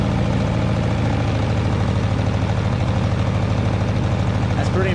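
Predator 3500 watt inverter generator engine running steadily with the choke on, a close, loud, even low-pitched engine drone with a fast regular pulse.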